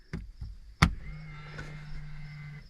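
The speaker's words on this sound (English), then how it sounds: "There's an electric solenoid that you guys heard activate underneath the machine." A single sharp electric solenoid click from underneath a Kawasaki Mule or John Deere Gator 835R utility vehicle as four-wheel drive is switched on, followed by a steady low motor hum.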